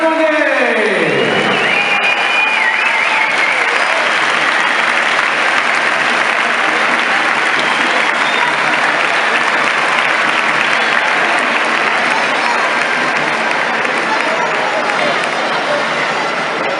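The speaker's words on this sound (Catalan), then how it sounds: "Fort aplaudiment als xics dels xics de Granollers." A large indoor crowd at a sports hall during a festival ceremony in Granollers applauds loudly and steadily, with cheering mixed into a dense, continuous wash of clapping that holds for the whole stretch.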